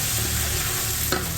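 Mushrooms browning in a pan, giving off a steady, close sizzle as their moisture steams away, with a brief scrape of stirring near the end.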